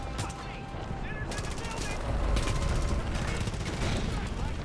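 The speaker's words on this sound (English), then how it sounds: "Oh, we actually need to shoot people." Dense, rapid gunfire bursts rattle close and loud in a bunker firefight in the video game Far Cry 5, with a voice briefly audible beneath.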